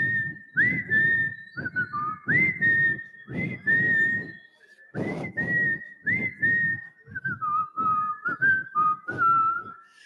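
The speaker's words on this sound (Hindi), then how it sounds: "आप हमारे साथ सीटी बजाओगे?" A group whistles together in long sustained tones as a breathing exercise meant to empty the lungs, the steady pitched phrases repeating with short breaths between them for the whole stretch.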